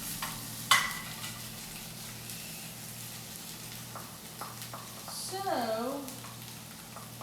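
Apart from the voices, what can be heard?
sausage and onions sizzling in butter in a skillet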